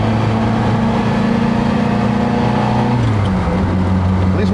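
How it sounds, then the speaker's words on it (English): Car accelerating up a motorway slip road onto the M4, with a steady loud engine drone whose pitch holds and then drops near the end as it shifts, amid road and wind noise. "here we are accelerating onto the M4"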